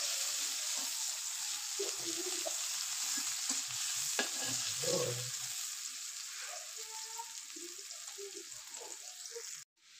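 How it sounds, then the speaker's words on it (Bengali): Chopped onions sizzle steadily in hot oil in a pan while a spatula stirs them, scraping and clinking now and then, with the frying hiss continuous until it cuts off abruptly near the end. "ভালো করে নাড়াচাড়া করে পেঁয়াজটা বেরেস্তা করে দিব।"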